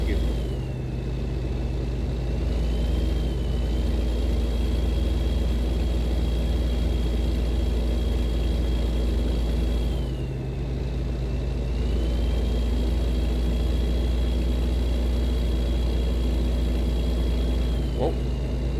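A truck engine in American Truck Simulator hums and rumbles steadily at close range, a constant low drone that builds slightly as the vehicle gains speed, with a faint whine above it.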